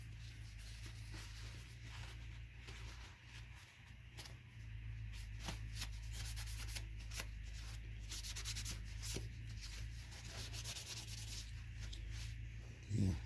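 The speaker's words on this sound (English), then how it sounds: "Got a second tissue here, just to wipe off the" Soft, close rubbing and brushing as a tissue wipes excess mahogany-coloured finish off a wooden surface, quiet and continuous with irregular faint scuffs.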